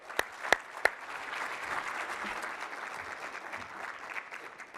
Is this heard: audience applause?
yes